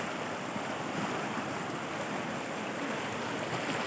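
River water rushing steadily at Ranibaan river, a continuous broadband wash of flowing current close by, unbroken throughout with no voices.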